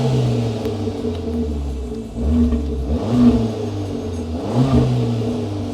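A Fiat 500 engine runs and revs in sport mode, a close, loud, rumbling idle rising in a few short throttle blips, heard alone with no talking.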